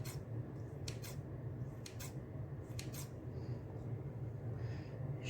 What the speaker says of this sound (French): vais venir tremper le bout de mon ciseau. Et ensuite, je vais venir couper des petits morceaux comme ceci.